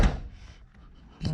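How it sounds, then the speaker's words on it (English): A 1975 Chevy stepside diesel truck door swings shut with a solid low thunk at the start, a softer rattle fading after, and a second knock as it seats at the end. "make sure our door closes"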